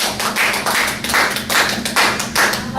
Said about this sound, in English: If you would please give her a round of applause.